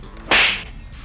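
Rear headrests in a 2013 Volvo S60 T6 fold down remotely with one sharp, loud slap-like thud that decays quickly into a quiet cabin.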